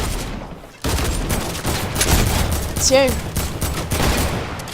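Flintlock pistol shots in Fortnite, several sharp gunfire cracks spread across the clip over constant game noise and effects, with someone briefly speaking.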